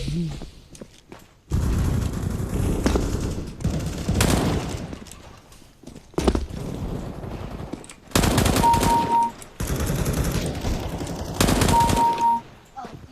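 Loud automatic-weapon bursts ring out in the shooter game CS:GO, several sustained volleys separated by short quiet gaps, with faint footsteps between them.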